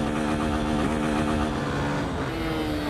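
A BMW S1000RR motorcycle engine drones loudly and steadily while being ridden on a Brazilian highway, a close, continuous roar with slight shifts in pitch and no voices.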